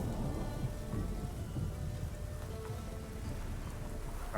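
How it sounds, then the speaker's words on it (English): Rain and thunder in the video game The Witcher 3, with a dense wash of falling rain and low rolling thunder beneath it, steady and fairly soft. "And is it just always raining and thundering here?"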